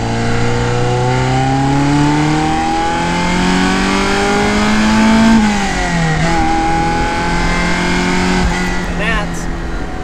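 A classic Ferrari engine revs hard on the road, rising through the gears in climbing sweeps with a brief dip at a shift, loud and close, under a voice talking.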